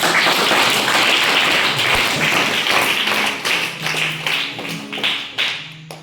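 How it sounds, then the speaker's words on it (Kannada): A school crowd applauding Shashikumar sir, dense loud clapping that holds steady and then thins into scattered claps toward the end. "ನಿಮ್ಮೆಲ್ಲ ಮುದ್ದು ಮಕ್ಕಳ ಪರವಾಗಿ ಜೋರಾದ ಚಪ್ಪಾಳೆ"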